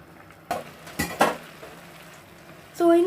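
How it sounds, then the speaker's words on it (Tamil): A spoon scrapes and clanks through semiya pulao in a pan over a soft sizzle, giving a few distinct knocks, and a voice starts at the end. "ஸோ இதேமாதிரி நீங்கள் நல்லா மிக்ஸ் பண்ணிக்கணும்."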